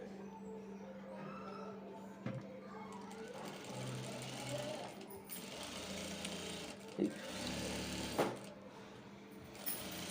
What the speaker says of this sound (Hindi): अब हम इसके ऊपर में सिलाई लगा देते हैं एक पैर का मार्जिन लेकर।